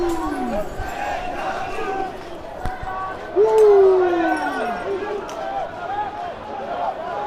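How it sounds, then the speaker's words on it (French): Crowd at a Paris labour-law protest running and shouting during a police charge, with scattered yells, a sharp knock and a loud rising-falling cry, plus a voice talking close by. "il y a la charge policière. Les policiers sont juste là. Et donc, vous avez vraiment des gens qui courent et ils bousculent tout le monde"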